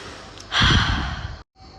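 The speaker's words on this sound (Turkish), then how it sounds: "Derin nefes almak" A single deep breath, drawn in audibly and let out in a long sigh, close and fairly quiet, ending in brief silence.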